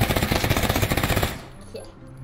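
Uzi fire in the VR shooter Pavlov, a fast burst of about a dozen rapid loud shots lasting over a second, then quieter room tone with faint handling.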